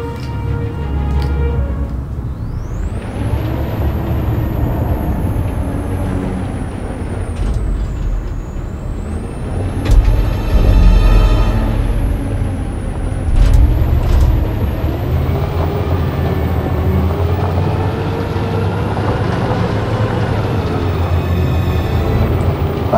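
In the video game Detroit: Become Human, a truck's heavy engine rumbles steadily, with a high hiss of air brakes and a couple of louder thumps midway.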